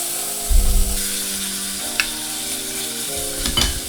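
Meat sears in a Topwit electric hot pot with a loud, continuous sizzle. Brief thumps and scrapes from tongs shifting the meat break through the frying a few times.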